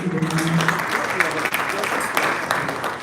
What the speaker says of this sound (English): I think we can give a better round of applause than that.